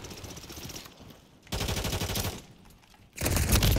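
Rapid automatic gunfire from the video game Call of Duty, loud multiplayer shooting in three bursts separated by short lulls, the last burst the loudest.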